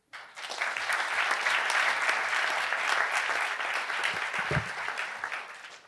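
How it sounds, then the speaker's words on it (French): Sustained applause from an audience at a university public-speaking contest final in Paris, dense clapping rising quickly and holding steady for several seconds before thinning out. "Rien que pour ça, on va vous applaudir."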